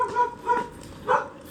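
Dogs in Davao, Mindanao give three clear, moderately loud barks spaced about half a second apart, with no one speaking.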